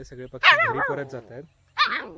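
A dog barks and yips outdoors at sunset, with two short, whiny bursts close by, mixed in with a person talking.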